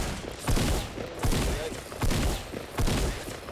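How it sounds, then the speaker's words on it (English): Gunfire in the video game Fortnite, four dull, heavy bursts spaced at an even rhythm, loud and close with no talk over them. "Just shoot it."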